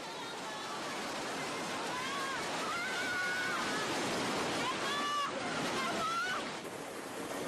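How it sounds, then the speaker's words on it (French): A tsunami wave of water and debris surging through the city of Aceh, a continuous heavy roar and rush of churning water, with scattered distant shouts and voices breaking through the turbulent noise. "une masse d'eau et de débris déferle dans la ville d'Aceh"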